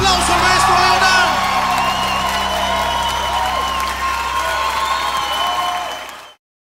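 Loud crowd applause and cheering at a live concert, sustained clapping mixed with whoops and shouts, close and full before cutting off abruptly near the end.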